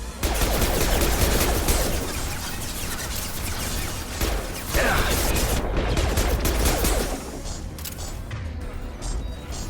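Sustained rapid gunfire from a firefight in the video game Mass Effect 2, loud and dense bursts rattling nearly continuously for about seven seconds before easing into lighter background combat noise.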